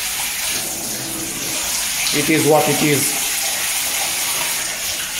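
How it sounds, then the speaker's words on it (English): A Kadda shower head sprays water at low household pressure, a steady close hiss of falling water running throughout, with a person talking over it in the middle. "Now it also outputs from the middle, but we have quite low water pressure in here"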